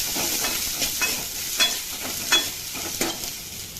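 Onions, garlic and curry leaves sizzling steadily in hot oil, a constant frying hiss with occasional scraping stirs of a spoon against the pan.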